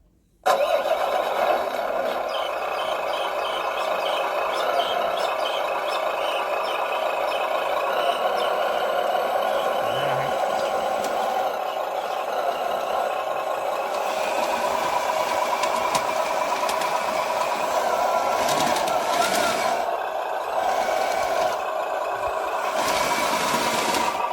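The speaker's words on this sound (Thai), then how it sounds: "เดี๋ยวผมขอติดเครื่องแป๊บครับ" An all-metal RC model of a vintage D9 tractor starts up abruptly after a brief silence and then runs continuously, with a steady buzzing whine and mechanical rattle close by, uneven toward the end.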